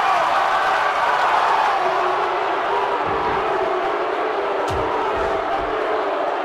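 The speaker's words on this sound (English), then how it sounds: "And the crowd is not happy right now." A virtual wrestling arena crowd in Second Life boos and jeers with a steady, loud roar throughout, broken by a couple of brief thumps.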